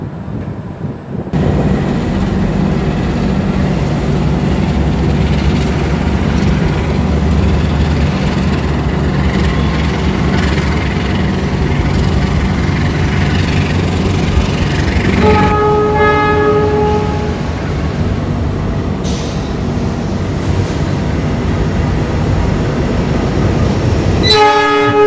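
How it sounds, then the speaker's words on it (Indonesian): A freight train rumbles loudly through a station on track 1, its heavy wheels and engine droning close by for a long stretch, with a horn blast sounding partway through. "itu tiba-tiba ada kereta barang di jalur 1 ya"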